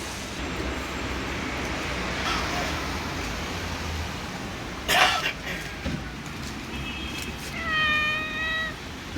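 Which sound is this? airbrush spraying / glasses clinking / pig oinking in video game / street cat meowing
street cat meowing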